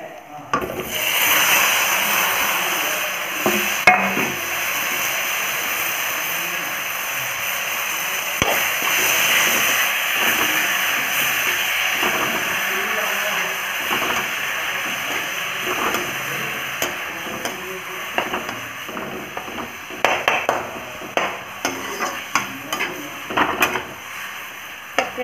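Vegetables fry and are stirred in a hot pan with oil and five-spice seeds while a meal of fish curry and mashed vegetables is being cooked. A steady sizzle carries throughout, with scraping spatula strokes and sharper clacks toward the end.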